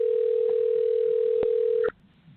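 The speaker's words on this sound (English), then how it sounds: "So it's dialing now." A steady telephone dial tone hums loud and unbroken for almost two seconds, crossed by a couple of brief clicks, then cuts off abruptly into near silence as the call connects.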